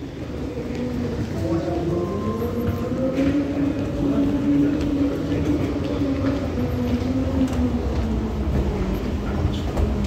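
An airport train at Dubai airport rumbles steadily along with a droning, rising and falling mechanical hum, continuous throughout.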